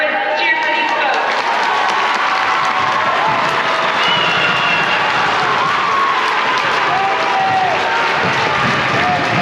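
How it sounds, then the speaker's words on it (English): Band students at West Middle School cheering and applauding, a dense crowd roar with clapping and shouting held steady and loud throughout, some voices rising above it. "everyone, cheer for these folks"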